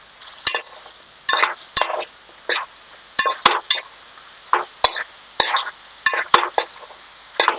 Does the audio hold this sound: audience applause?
no